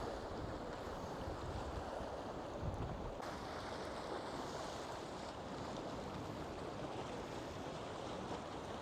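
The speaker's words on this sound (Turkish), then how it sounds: "Hafif esiyor, rüzgar var" Steady, cold wind roars and buffets the microphone outdoors at abandoned, unfinished villas, a constant rushing noise with a faint sea-like wash underneath.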